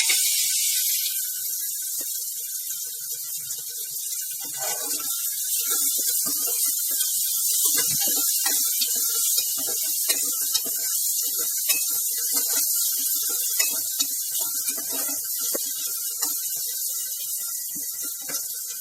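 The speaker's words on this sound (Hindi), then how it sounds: "अब सेक तेज कर दिया है, प्याज को भूनने देंगे थोड़ा गोल्डन ब्राउन होने तक" Chopped onions sizzling hard in a hot pan on high heat as the base for a seven-grain stew, a steady dense crackling fry with spitting pops throughout, near and continuous without talk.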